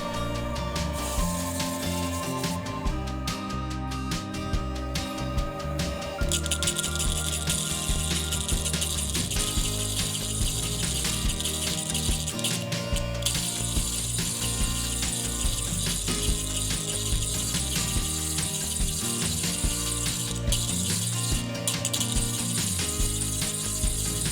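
A gemstone faceting machine with a 64-index wheel gives continuous mechanical ratcheting and clicking over a steady grinding hum, close and sustained throughout.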